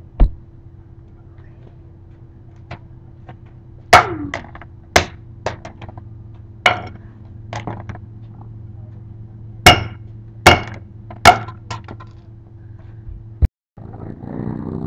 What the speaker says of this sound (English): We're gonna get back to smashing the Motorola, which seems to have not much damage